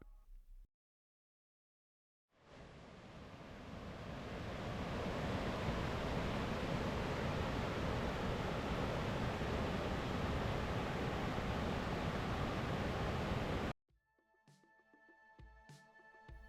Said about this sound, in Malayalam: ആ വെള്ളച്ചാട്ടം മനോഹരമായി താഴേക്ക് പതിക്കുന്നത് കാണാൻ കഴിയുന്നത്